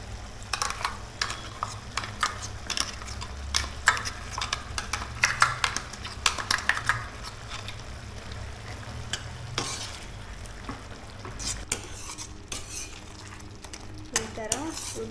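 Squid sukka simmers with freshly ground masala in a pan, giving a soft steady sizzle under repeated scraping and stirring of a spoon against the metal, fairly quiet and close.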